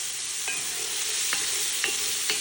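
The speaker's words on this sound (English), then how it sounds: "So let's go ahead and spoon some of this off." Spoon scraping and skimming excess oil off a pan of Guinness beef stew, with a steady broadband sizzle throughout and four brief metallic clinks of the spoon against the pan, spaced about a second apart.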